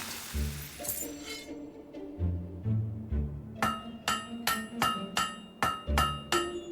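Hammer strikes forging a blade in the video game Fable 3, a run of regular ringing metallic clanks, about eight evenly spaced hits following lower clattering sounds.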